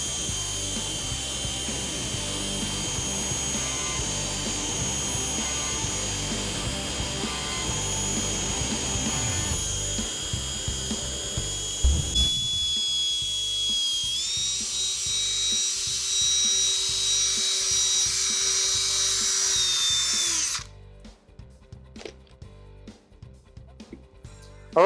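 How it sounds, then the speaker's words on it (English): A power buffer runs steadily with a high whine while polishing compound is worked into a cloudy car headlight from a Flitz headlight restoration kit. It stays loud and continuous at first, shifts pitch partway through, then cuts off abruptly near the end. "We're going to take the buffer, and we're just going to work that in really slow."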